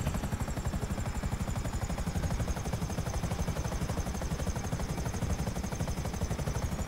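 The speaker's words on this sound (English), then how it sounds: "blast a police helicopter out of the sky" Police helicopter in GTA 5 gives a loud, continuous rotor chop with fast, even blade pulses and a high turbine whine, close and steady throughout with no talk.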